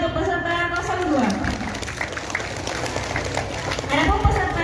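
Applause from the audience at a children's Islamic festival competition in a village in Aceh, Indonesia, for contestant 02: a steady wash of crowd clapping running throughout, mixed with a voice speaking over it and some background crowd noise.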